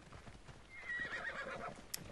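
A horse summoned by its rider in Assassin's Creed Odyssey gives a single fairly faint whinny, with soft hoof clops and ambient game sound around it.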